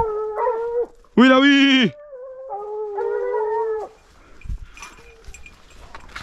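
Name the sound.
hunting dogs howling while tracking wild boar in maize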